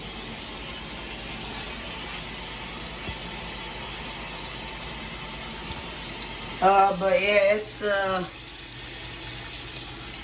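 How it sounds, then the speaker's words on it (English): Water gushes steadily into a Kenmore top-load washer tub in the background while a person speaks briefly near the end. "you see it filled up pretty quick because there's still water in there."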